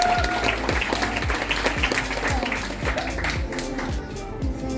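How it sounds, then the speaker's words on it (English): Passengers in a cruise ship audience applaud a nervous first-time volunteer, a continuous round of clapping close by over a thumping rhythmic beat. "So let's give him a round of applause"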